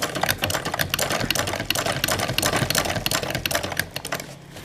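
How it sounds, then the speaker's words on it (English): A treadle sewing machine stitches a pannier bag with a steady, fast rattling clatter of the needle mechanism, loud and close, running continuously with no talking. "I'm using my treadle"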